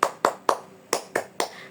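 Hand claps from a class doing the 'tepuk semangat' cheer in a teaching session: a quick even run of three claps, a short pause, then three more, all close and clear without speech.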